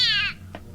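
A cat gives one short, high, wavering meow close by, followed by a faint brief knock against a quiet low background hum.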